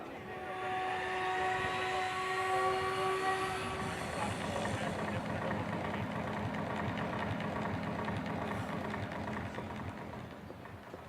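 Military display team helicopters of the Indian Air Force roar overhead at the Chennai air show on Marina Beach, a loud sustained rotor and engine drone that fades slowly.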